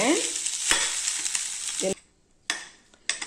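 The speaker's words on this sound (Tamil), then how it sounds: "இப்போ நம்ம சுண்டல் வந்து நல்லா வதங்கிருச்சுங்க" Corn sundal sautéing in a pan for a Tamil recipe: steady bright sizzle with stirring scrapes, broken by two short quiet gaps before the frying noise returns.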